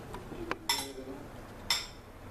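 A utensil clinks against a bowl as ingredients seasoned with a little salt are mixed: two quick, sharp clinks close together, then a third after a pause, near and fairly light in a quiet kitchen.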